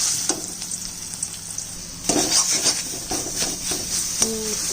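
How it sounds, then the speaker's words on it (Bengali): Ground paste hits a little hot oil and sizzles loudly, followed by stirring scrapes and taps of a spoon in the pan, close and without talking. "তেল দিলাম এবারে বাটাটা দিয়ে দিই"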